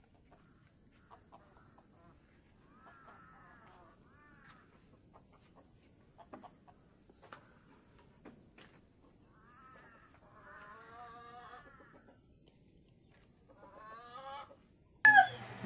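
Chickens cluck in scattered short bursts around a house, faint and fairly close, over a steady high insect drone, with a brief louder squawk near the end.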